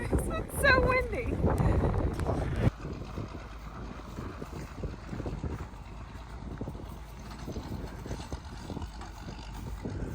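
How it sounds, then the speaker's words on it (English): Strong wind buffets the microphone in a continuous rough roar, with a louder burst and some indistinct voices in the first few seconds. "the wind is officially back"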